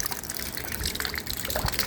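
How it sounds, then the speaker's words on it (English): Water gushes and splashes steadily from a leaking geyser, a continuous rushing spray close by with no talking over it. "This is where it's leaking. It's coming out there from the geyser."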